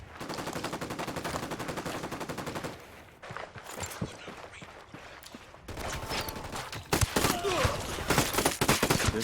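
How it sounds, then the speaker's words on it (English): Rapid bursts of automatic gunfire in the video game Ghost Recon Wildlands, a sustained rattling volley, then scattered shots, then heavier dense firing, loud and close throughout. "I'm opening fire."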